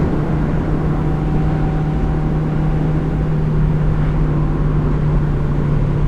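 A Mazda MX-5 fitted with individual throttle bodies drones loudly at a steady engine note from inside the cabin, a constant deep hum with a sustained whine and no break.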